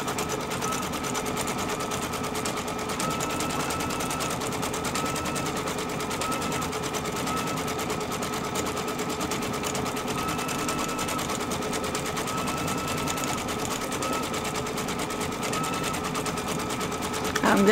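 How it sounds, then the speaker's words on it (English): An embroidery machine stitches a stipple pattern, giving a fast, steady mechanical whir and rapid needle rhythm that runs continuously at close range. "you let it stitch until you hear it begin to stitch out that the locking stitch in the back"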